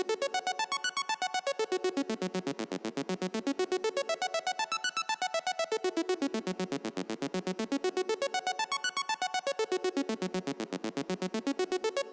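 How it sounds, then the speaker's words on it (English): Synth arpeggio built in the Synth1 soft synth, hard-panned left and right, with rapid evenly pulsed notes sweeping up and down in repeating waves, steady and loud with no voices. "which is a hard pans left and right arpeggio which I've made in Synth 1,"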